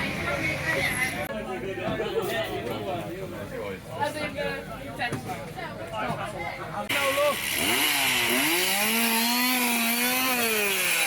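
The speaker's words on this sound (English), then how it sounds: "some guy runs in with a chainsaw" A chainsaw revs and whines at a scream park attraction in Yorkshire, its engine pitch rising and falling beneath loud nearby talk and chatter.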